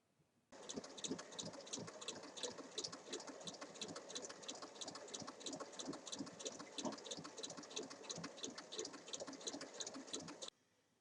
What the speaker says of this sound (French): endroit du tissu sur endroit de la fermeture et on va piquer sur toute la longueur